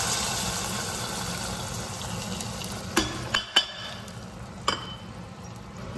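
Khichdi ingredients stirred together in a pot: a steady sizzling, bubbling bed with a few spoon scrapes and clinks against the pot, close and moderately quiet.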